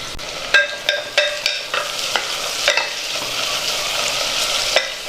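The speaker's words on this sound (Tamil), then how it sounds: "இப்போ இதில் ஒரு 3 பச்சை மிளகாய் சேர்த்துக்கோங்க. சேர்த்துட்டு அதையும் நல்லா கலந்து விடுங்க." Sliced onions and green chillies fry in a pan while a spoon stirs them, giving a steady close sizzle broken by repeated sharp scraping clicks against the pan.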